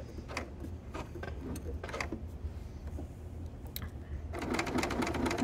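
An L890 overlocker's hand wheel is turned a few times, producing short bursts of clicking and whirring from the moving mechanism at close range, with a busier run of mechanical rattling toward the end.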